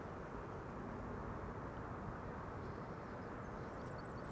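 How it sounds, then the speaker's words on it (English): A landing airliner's thrust reversers at Amsterdam Schiphol produce a distant, steady, low broadband roar that holds unbroken and fairly faint throughout. "We can even hear its reversers"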